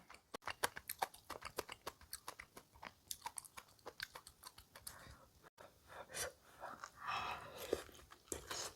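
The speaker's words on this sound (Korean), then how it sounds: "콩나물 먼저 먹어볼게요" Someone chews a mouthful of cooked bean sprouts close to the mic, making a crisp, rhythmic crunching that runs steadily and then turns into softer, wetter chewing.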